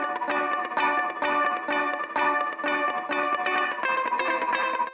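Phase-based stereo widening, variation B of the Klevgrand Rum reverb plugin, on a bright chordal music loop with regular rhythmic pulses, steady and loud throughout with no pauses.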